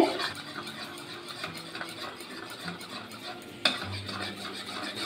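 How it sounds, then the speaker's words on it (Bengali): Tomato sauce, chili sauce and a little water being stirred together in a bowl or pan, with a steady scraping and clinking of a spoon, plus a soft background sizzle of capsicum, onion and chili frying; no talk. "অল্প জল দেবো, দিয়ে ভালো করে গুলে নিতে হবে।"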